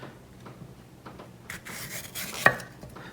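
A new knife chops peppers on a cutting board in soft, scattered cuts and rubbing strokes, building to a denser run of slicing with one sharp knock near the end; quiet and close.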